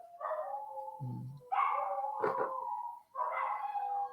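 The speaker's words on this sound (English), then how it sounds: "Can you hear my pups howling on the microphone or not?" Pet dogs howling close to a microphone, several long rising and wavering howls with brief yips between them, loud and clear in a quiet room, with no talk.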